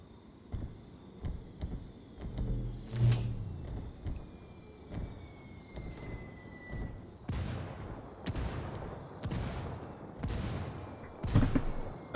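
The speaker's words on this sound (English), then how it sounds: "Okay, so mortars do come down." Heavy mortar impacts in the Ghost Recon Ghost War video game during a league match, a rapid run of loud booming blasts that grows denser toward the end, with sharp cracks between them and a steady background drone.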